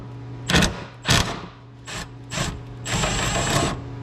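A ratchet wrench removes a 15 mm nut on a 2001–2010 GM 2500HD/3500HD truck, giving several short bursts of close metallic clicking separated by pauses, ending in a longer run.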